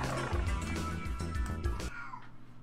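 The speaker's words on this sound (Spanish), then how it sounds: "Tengo al gato ahí jodiendo." A cat's yowl from the Castlevania: Symphony of the Night PlayStation game, a loud growling, roar-like cry rising over steady game music for about two seconds before fading, with no talk over it.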